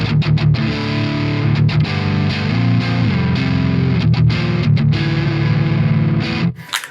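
Sustained add9 chords from an electric guitar's neck pickup through a Vola OZ ROA clean channel, several strummed changes ringing steadily and close, with brief gaps between strums before the sound trails off.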